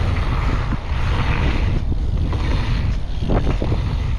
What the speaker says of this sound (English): really, really windy coming from the south